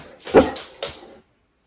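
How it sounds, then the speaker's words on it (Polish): A dog barks indoors from a hallway, giving two or three close, sharp barks and yelps in quick succession, then silence. "Poszła i teraz będzie na mnie szczekała z przedpokoju"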